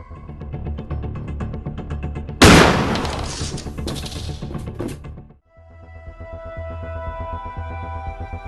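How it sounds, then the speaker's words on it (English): Shotgun blast setting off a gasoline can in the Granny horror video game, a sudden loud broadband explosion that rings out for about three seconds over steady game background music, which cuts out briefly and then resumes. "if you shoot the gasoline can with a shotgun, it will blow up"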